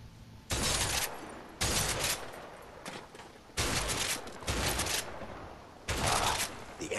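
Gunfire in the video game A Way Out, including a heavy shotgun: loud broadband blasts and bursts recur every second or so, each ringing out briefly, with no talk over them.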